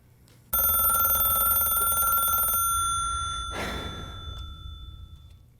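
An old-style telephone bell rings loudly for about two seconds during a stage performance, then goes quiet, followed by a soft rustle and room tone.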